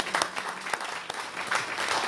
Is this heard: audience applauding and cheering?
yes